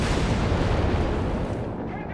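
Dense, continuous rumbling gunfire and blasts in the World War II strategy game Company of Heroes 3, anti-aircraft fire aimed at aircraft overhead, loud and unbroken before easing slightly at the end.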